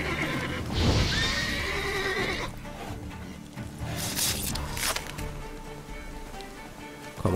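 A horse in The Witcher 3 neighs loudly and clearly near the start, followed by steady hoofbeats and combat noise over a continuous game soundscape.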